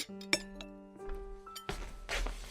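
Dishes clinking in a home kitchen while dinner is prepared, a few sharp ringing clinks of plates and glassware followed by rougher clattering and shuffling, fairly faint.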